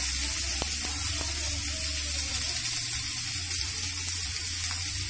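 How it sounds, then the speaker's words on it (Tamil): Spring onion sautés in a hot pan for an eggplant side dish, with a steady, dense sizzle holding throughout, close and loud, and a few faint stirring scrapes. "போட்டு நல்லா வதக்கிடுங்க"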